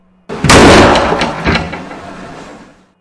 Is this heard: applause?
no